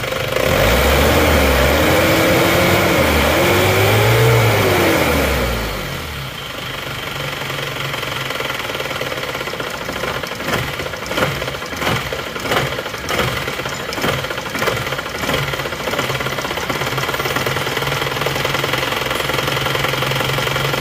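An Isuzu Panther diesel engine is revved high, then drops into a rough, surging, uneven idle with rhythmic knocking and shaking that continues steadily and close by, with no talk over it.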